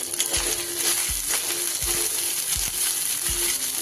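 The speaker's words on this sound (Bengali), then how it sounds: "ভালো করে তেলের সাথে আমি একটু নেড়ে নেব।" Ground coriander, cumin, turmeric and Kashmiri chilli powder fry in oil while being stirred, a steady hiss of sizzling under repeated soft thumps and scrapes of a spoon against the pan, close up, with no talking.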